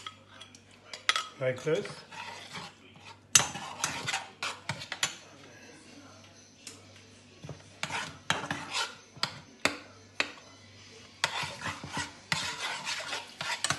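A spoon scrapes and clinks against a pan in irregular bursts as gram flour and chickpea flour are stirred into tomatoes for an okra onion gravy, with a brief spoken word partway through.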